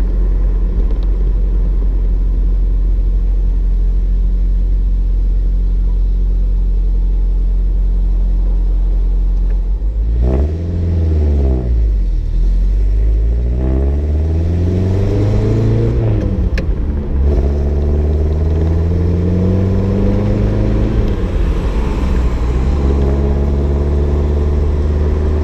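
A 1956 Mercedes-Benz 190SL engine runs steadily while driving, then revs rise and fall through several clear gear shifts, the loud, close engine note sweeping up and dropping between changes with no talk.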